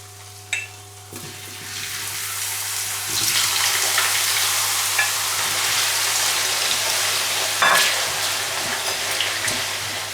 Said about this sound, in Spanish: La apartamos mientras freímos las patatas